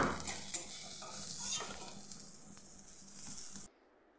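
Fried soybean chunks are scooped from a pan into a separate bowl, giving light scraping, clinking and stirring sounds over a faint sizzle, then a sudden quiet near the end.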